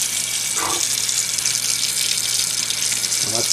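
Warm tap water runs steadily into a baby's bathtub, a continuous close hiss with two brief soft baby vocal sounds over it.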